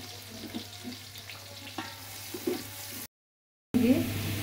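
Onions frying with garam masala in a pan while a whole roast chicken is being cooked: a soft, steady sizzle with a few light stirring scrapes, broken by a short silence and then a louder burst of frying.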